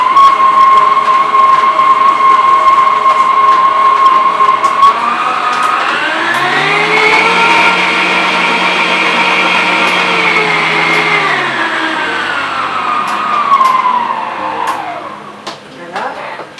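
A kitchen mixer beats butter and sugar in its bowl with a loud, steady motor whine that climbs in pitch as it speeds up, holds a strained hum, then winds back down, with a voice talking over it.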